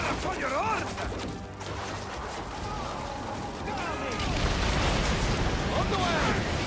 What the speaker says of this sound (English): Our catapults will fire upon your order.